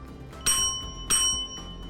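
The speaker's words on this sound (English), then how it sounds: "I think I might be hitting the bell in the wrong spot." A bell hanging on a tree decoration is struck twice, each strike ringing out in a bright, sustained metallic tone that fades slowly, close and fairly loud over a quiet background.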